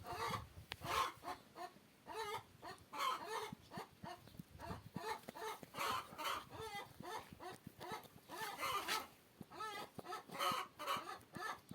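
Chickens cluck and squawk repeatedly in quick, uneven bursts nearby, with a few hens overlapping.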